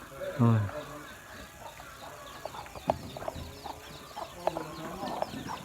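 Chickens and small chicks cluck and peep in short scattered calls underfoot around a nearby voice, with a few sharp bumps and footsteps in between.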